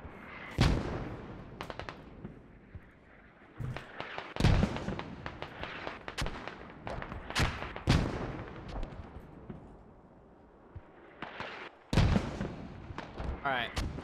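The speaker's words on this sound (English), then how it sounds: "both mortars should be going right now on different targets" Mortar fire in the video game Squad booms in a run of sharp, loud detonations spaced irregularly, some close and punchy, others more distant, with a player talking between shots.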